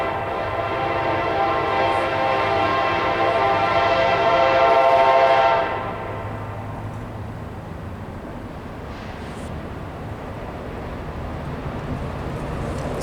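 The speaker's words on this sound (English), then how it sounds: "Comes the Kansas City Southern Railroad." A Kansas City Southern Railroad train rolls by westbound in mid-afternoon, its loud horn blaring steadily for about six seconds before cutting off, leaving the rumble of the passing cars.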